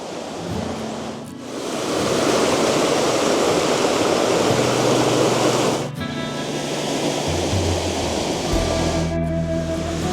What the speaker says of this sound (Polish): Tam powyżej już mamy większej formy wodospadziki, takie całe serie kaskad.